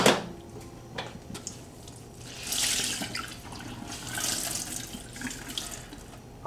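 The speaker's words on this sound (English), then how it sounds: "after you wet the towels, you just go ahead and take all that excess water out of there" Wet towels being wrung out over a sink to squeeze out excess water, with water splashing and trickling in a few bursts of running, dripping sound close by, no talking.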